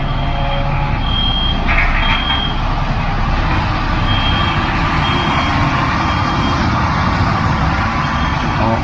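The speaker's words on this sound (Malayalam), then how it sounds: "നമ്മുടെ IC ഇറങ്ങി വരികയാണ് നമ്മുടെ വോൾവോ ഫാക്ടറിയിൽ നിന്ന്" A new Volvo 9600 13.5 m bus's engine rumbles steadily nearby while a few short electronic beeps sound early on, as it pulls slowly out of the factory.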